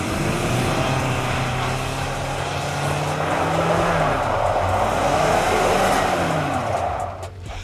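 A 2018 Toyota Land Cruiser Prado with a 2.7 gasoline engine, low range and locked center differential, strains up a snowy, icy slope, its engine droning loud and steady with shifting revs and wheelspin noise before easing off at the end.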